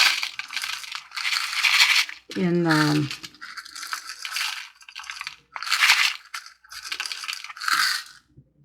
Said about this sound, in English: I'm going to add the glass to this little cup.